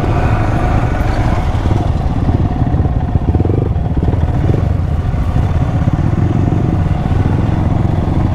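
A motorcycle ridden off-road on rough ground near Bhandardara, its engine loud and close throughout with a constant throbbing rumble and rattling clatter from the bike over the uneven track.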